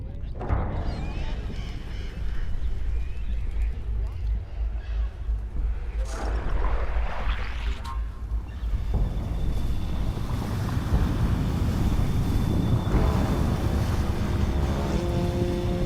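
A tsunami wave arrives in the god game From Dust, a broad roaring wash of water and wind that swells and stays loud and continuous, with a surging rush building toward the end.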